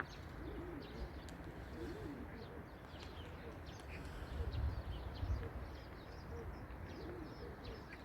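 Pigeons coo softly and repeatedly in the background, low and muffled under a steady wash of outdoor noise and faint chirps.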